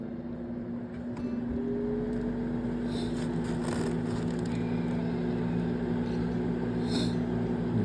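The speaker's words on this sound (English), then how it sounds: "so let's crank the fan" A fan cranked on a homemade thermal electric generator runs as a steady, close motor hum with a constant tone, a few faint clicks and rattles early on, and no voices.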